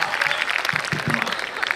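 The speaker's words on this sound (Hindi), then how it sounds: "उस पर आप सबकी तालियां मिलेंगे।" Audience applause at a Hindi comedy poetry gathering (hasya kavi sammelan), a steady wash of clapping from a crowd that holds at a constant level for under two seconds.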